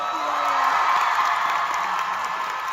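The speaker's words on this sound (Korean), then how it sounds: "박수 한번 주세요." A concert crowd at a live stage tour show in Busan fills the hall with sustained applause, cheering and scattered whoops, a dense, steady wash of sound with no talking over it.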